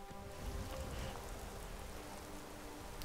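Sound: rain falling in Skyrim video game

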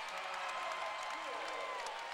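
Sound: basketball crowd cheering after a dunk

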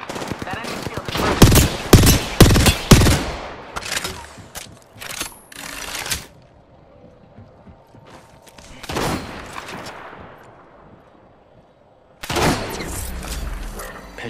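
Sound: gunfire in Apex Legends video game

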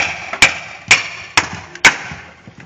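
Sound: forged knife chopping into hard wood

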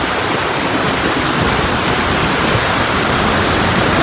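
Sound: heavy rain and water gushing from spout

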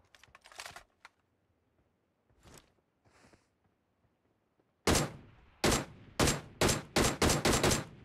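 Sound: gunfire in the video game PUBG Mobile

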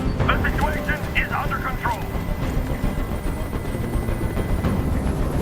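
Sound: helicopter noise in the video game Detroit: Become Human

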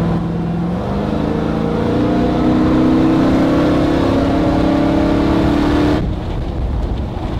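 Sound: vehicle accelerating and shifting gears

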